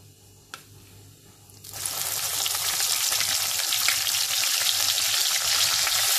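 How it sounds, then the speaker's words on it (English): Kalonji seeds and onion paste hit hot oil in a kadai, a loud steady sizzle that bursts in after a quiet start and holds as a dense, continuous frying hiss. "Once the oil is hot, I will add the kalonji into it, followed by the onion paste"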